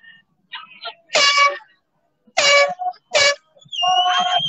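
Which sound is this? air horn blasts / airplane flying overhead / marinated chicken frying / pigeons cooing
air horn blasts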